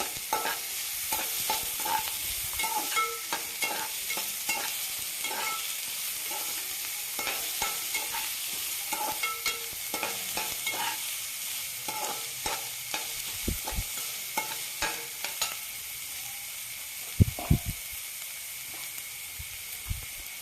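Cabbage Manchurian mixture stirred in a pan, with repeated scraping and clacking strokes of a spoon over a soft, continuous frying sizzle, close and steady, a couple of louder knocks near the end, no talk.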